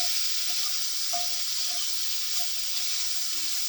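Food sizzles steadily in a lightly oiled skillet over medium-high heat, a close, continuous bright hiss with no voices.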